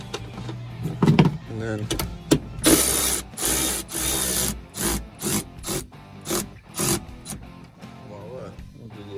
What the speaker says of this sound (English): with an electric ratchet, you can just get your bolts in there